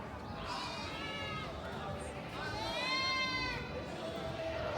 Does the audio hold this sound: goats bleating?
yes